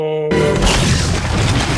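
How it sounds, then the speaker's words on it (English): A deep, heavy explosion booms out in a Game of Thrones episode, cutting in abruptly after a brief tonal note and sustaining a loud, rumbling roar. "just because that explosion went off"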